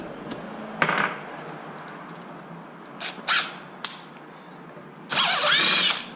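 A power drill fitted with a socket works on a Traxxas XMAXX 8S RC truck, whirring in several short bursts, the last one longest, over quiet background.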